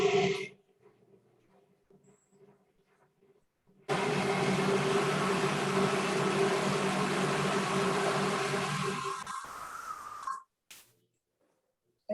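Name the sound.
blender running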